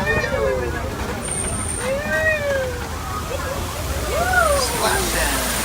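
Disney Animal Kingdom's Kilimanjaro Safari ride vehicle splashes through a waterfall, with steady rushing water and sloshing filling the scene while a guide's voice and passenger chatter carry over the top.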